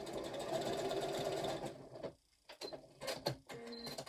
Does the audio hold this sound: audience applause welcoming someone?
no